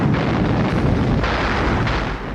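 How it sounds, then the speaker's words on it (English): A loud, continuous World War II artillery barrage from the Siege of Leningrad, dense overlapping booms and blasts rumbling without pause. "The initial artillery offensive lasted almost 2 hours."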